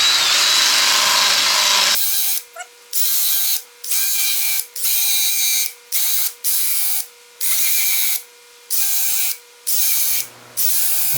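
Hand sanding a black gum natural edge with a Sand-Flex block, heard as close, rhythmic rasping strokes, about a dozen back-and-forth passes after an opening stretch of steady hiss.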